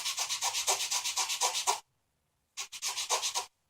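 Hand sanding a wooden deck plank with one hand, a close, steady rhythm of rasping back-and-forth strokes that pauses briefly, then resumes.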